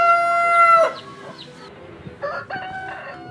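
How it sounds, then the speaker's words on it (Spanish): A rooster in Galicia crows once, loud and close, in a long harmonic call that breaks off after under a second, followed by softer scattered clucks and short calls. "los gallos cantan al amanecer"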